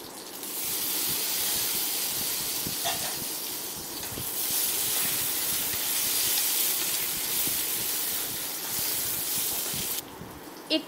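Onion and capsicum sizzle in a pan while stirred for chili chicken Maggi, a loud, broad steamy hiss holding steady with faint scrapes, then cutting off near the end.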